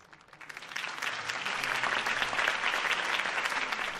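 Crowd applause at a Harvey Dent campaign rally in the Batman Telltale video game, starting soft and quickly swelling into sustained, dense clapping.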